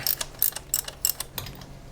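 Rapid ratcheting clicks from a 10mm plug spanner on an extension bar, loosening a spark plug on a Mazda MX5 Mk3, coming in short bursts of sharp mechanical ticks close to the mic with no talking.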